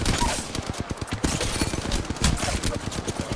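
Rapid bursts of gunfire in the battle royale video game Apex Legends, a dense, loud stream of closely spaced shots with a low thumping bed running throughout.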